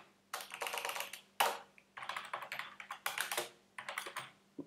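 Bursts of typing on a computer keyboard while entering a database collection name, quick clustered keystrokes in several runs with brief pauses, close and fairly quiet over a faint steady hum.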